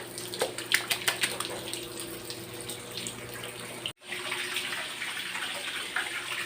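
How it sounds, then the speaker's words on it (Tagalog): Water pours steadily from a tap onto a floor to flood-test a freshly applied waterproofing membrane, a continuous gushing splash with a few brief spattering bursts and one abrupt cut partway through. "So hintayin lang po natin mga katikba na mapuno lahat ng tubig."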